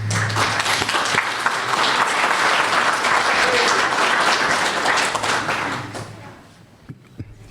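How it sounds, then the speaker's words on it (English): Wedding guests at the speeches give a sustained round of applause, dense and steady for about six seconds before it tapers off into scattered last claps and a quiet room. "Please, can we give him a round of applause?"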